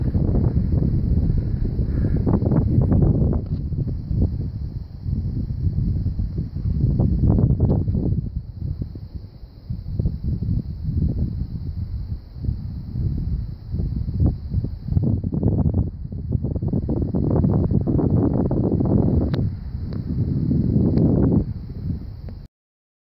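Gusty wind on the Appalachian Trail buffets the microphone in repeated low rumbling bursts, rising and falling over the whole stretch, with a faint steady high tone behind it.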